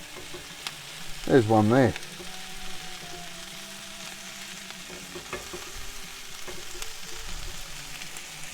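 Faint, steady sizzle of vegetables frying on a camp stove outdoors, low under a brief spoken remark and a few small knocks.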